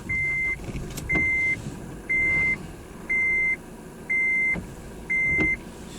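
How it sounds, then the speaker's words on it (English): A Honda FR-V 2.2 i-CTDI diesel idles quietly in the background while a seatbelt warning chimes in six evenly spaced, sustained beeps, each lasting about half a second, sounding at roughly one-second intervals. "All I'm going to do now is turn the engine on."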